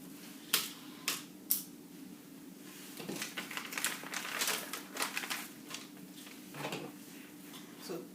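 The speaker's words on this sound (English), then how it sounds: "So this is paper scissors." Paper scissors cut out a paper pattern for a two-piece shirt collar, close up: three crisp snips at steady intervals, then a longer run of rustling, crunching cuts over a low steady hum, with no talking.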